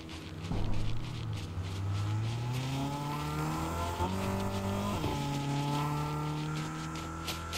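A car driving in the video game Fortnite hums with a steady engine drone that rises and shifts pitch as it accelerates, the motor sound continuous and fairly close with no talking.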